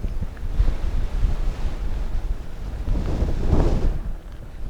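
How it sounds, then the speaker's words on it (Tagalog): Strong wind buffets an outdoor microphone during a rest stop on a cycling loop, producing continuous low rumbling gusts that surge and fade, rising near the end, with no speech. "Lakas ng hangin!"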